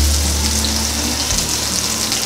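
Garlic and onion, a large onion among them, sautéing in a hot pan, giving a steady close sizzle with a low hum beneath and no voices.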